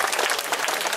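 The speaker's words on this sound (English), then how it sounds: "let's all give Miss Clairvoyant a lovely round of applause" Audience applause for a stage performer at a haunted clock tower event, a steady dense wash of clapping heard alone and fairly loud.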